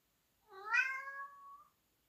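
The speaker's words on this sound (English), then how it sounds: "And it wouldn't be a video without Rylan meowing in the background" A pet cat meows once in a single drawn-out cry of about a second, rising and then trailing off, clear but moderately quiet with no talk over it.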